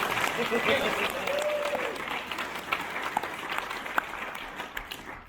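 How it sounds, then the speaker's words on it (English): Audience applause fills a LEGO keynote hall, a broad steady clapping wash that gradually thins, with a few sharper individual claps and brief voices or cheers rising over it. "Everybody, clap him so he gets up here really fast."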